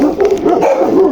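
Jackals near a roadside yelp and howl in a wavering, rising-and-falling chorus, close and fairly loud, with several overlapping voices sliding up and down.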